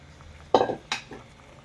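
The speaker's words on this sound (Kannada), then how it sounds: "ಈಗ ಇದಕ್ಕೆ ನಾನು ಫ್ರೈ ಮಾಡ್ಕೊಂಡಿದ್ದೀನಲ್ಲ ಬೆಂಡೆಕಾಯಿನ ಹಾಕೋತಾ ಇದ್ದೀನಿ" Fried okra tipped into a pan with fresh curry leaves for okra gojju, two sharp metallic clanks of a spoon against the pan close by, followed by a faint rustle and then quiet.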